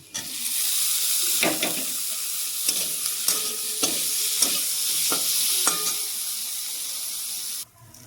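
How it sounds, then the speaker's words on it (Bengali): Paneer frying with cumin powder and vegetable masala in a pan for paneer aloo bhujia, a steady sizzle under repeated stirring scrapes and clinks, close and fairly loud, fading near the end. "এদিকে জিরার গুঁড়ো, একটু সবজি মশলা দিয়ে হালকা ভেজে দিব। এখন পনিরটা ঢেলে দিব।"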